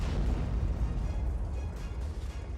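Explosion of a car loaded with explosives near a Pakistani army headquarters, heard as a continuous deep, roaring rumble that fills the clip, with no speech.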